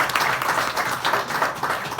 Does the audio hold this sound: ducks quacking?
no